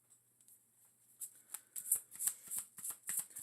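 Tarot cards being shuffled by hand, a series of crisp riffling snaps in quick rhythm, close and fairly soft, no talk.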